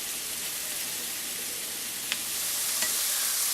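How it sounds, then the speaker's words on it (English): Sliced mushrooms fry over medium-high heat, a steady, fairly quiet sizzle with a couple of sharp crackles and light stirring, no voices. "I'm going to add in 3/4 of a pound of these mushrooms that I've sliced. Now I'm just going to cook these until they brown just a little bit."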